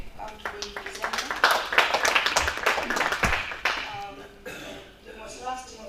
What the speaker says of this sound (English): Let's applaud the outgoing presenter